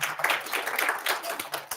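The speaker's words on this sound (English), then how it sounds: "A round of applause." Applause from a conference audience at a government social media summit, a short burst of scattered clapping that stays fairly even and moderately loud with some voice mixed in.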